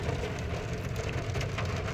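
Rain falls steadily in a dense, even hiss amid slow traffic, continuous and fairly loud, with no voices.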